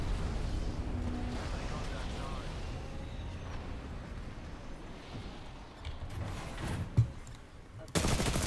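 Sustained gunfire from the Apex Legends video game, dense rapid shots and rumbling blasts under a steady wash of noise, with a sharper crack near the end and a sudden loud burst at the close.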